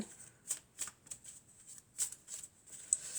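Oracle cards are shuffled and cut by hand, a series of soft, quick riffling flicks in irregular bursts, close and quiet with no one speaking.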